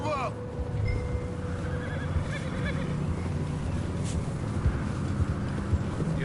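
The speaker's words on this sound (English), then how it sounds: "Giddy up." Horse in the Western game Red Dead Redemption giving a loud whinny at the start, then hoofbeats clip-clopping under a steady background of game noise, with faint chimes later on.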